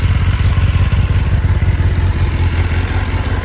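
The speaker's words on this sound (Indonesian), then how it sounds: "kita coba gas tipis-tipis" A Kawasaki ZX-10R sport motorcycle engine runs loud and close, its deep, throbbing exhaust pulsing rapidly in light, even revs with no talk.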